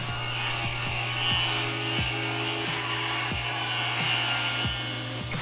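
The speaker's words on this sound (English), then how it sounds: "We'll start by cutting a rabbet in the back of the 2x4s to house the 3/4 inch sheet of plywood." Power saw cutting a rabbet into the back of a wooden 2x4 in a woodworking shop, a steady motor hum broken by repeated rhythmic rasping strokes of blade through wood, close and fairly loud, no talk.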